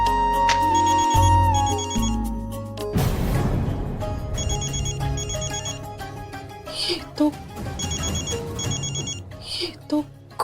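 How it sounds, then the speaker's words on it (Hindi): A mobile phone rings from a store room inside a house, its repeating electronic ringtone pattern sounding in bursts under music and dramatic sound effects, with people talking around it. "ये तो कुंवर सा के फोन की आवाज है"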